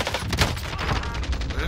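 Rapid gunfire from a shooter video game rattles on continuously throughout, dense bursts filling the whole moment with shots stacked over one another, with background voices faintly mixed beneath.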